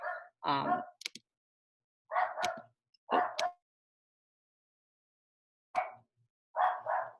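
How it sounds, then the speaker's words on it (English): A dog barks during an online academic lecture, with several sharp, close barks in short clusters separated by silent gaps. "I hope that the rest of you too hear Sophie bark"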